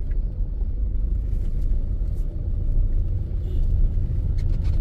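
A car driven by a learner rolls along a road with a steady low engine and tyre rumble heard from inside, without voices and without a distinct gear-shift sound.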